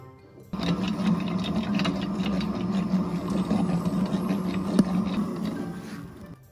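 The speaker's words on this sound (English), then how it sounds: "The mixer is just gonna make it go much faster." An electric mixer churning glue-based slime putty, a steady whirring motor hum that runs continuously at moderate loudness after a brief start.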